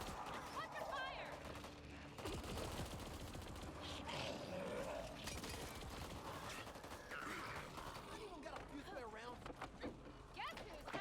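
Bursts of gunfire from a multiplayer video game shooter ring out over several seconds, mixed with game voice lines, grunts and mechanical clatter, all fairly quiet and busy.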